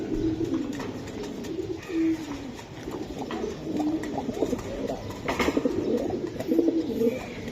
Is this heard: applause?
no